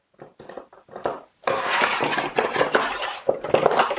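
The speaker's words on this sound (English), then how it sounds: "You're going to hold the trigger in, and it'll snap in place." Metal clamps on a Worx Pegasus folding worktable clack into place with a few light clicks, then a longer stretch of rattling metal clatter and scraping close by.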